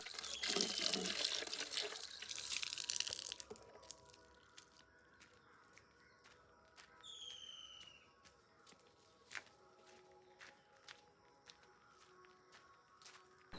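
Running tap water splashes into a vessel as a kitchen waste pot is rinsed out at home, a steady near gush at first that gives way to lighter trickles and scattered clinks and drips.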